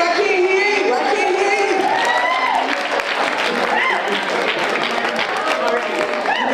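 Conference audience breaks into sustained applause and cheering, a dense, loud wall of clapping with voices and whoops mixed in throughout.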